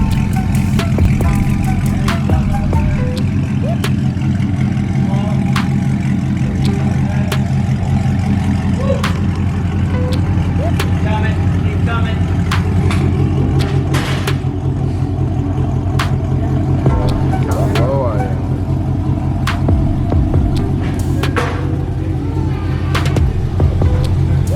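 A car with its muffler, resonator and catalytic converter cut out and 5-inch exhaust tips rumbles at idle with a loud, raw low drone, swelling in occasional revs, with faint voices in the background.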